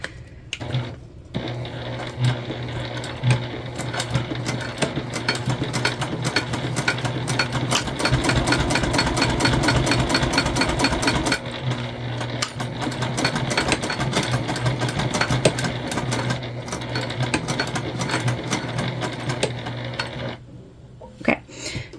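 A sewing machine stitching a seam on a convertible bag, a fast, steady mechanical clatter of the needle running continuously for most of the span, close and loud, stopping briefly before resuming at the end.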